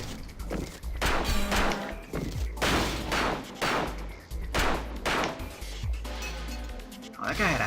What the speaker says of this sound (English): I usually underestimate the single shot bullet weapons, like, for example, the T2 Armor Buster that I'm using right now